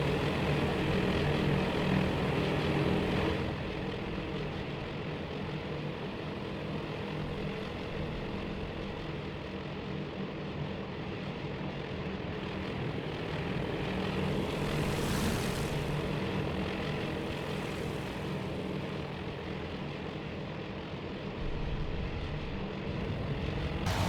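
WWII Dauntless dive bomber and Zero fighter in a Task Force Admiral naval battle game, propeller engines droning steadily and continuously for the whole stretch, with a brief swelling whoosh midway, no talking.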